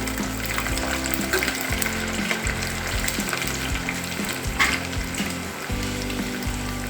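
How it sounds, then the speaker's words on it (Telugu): Continuous crackling sizzle of garlic cloves frying in hot oil, close and steady, with occasional stirring clinks. "ఈ వెల్లుల్లి రెబ్బలు కూడా కొంచెం ఫ్రై అవ్వాలి"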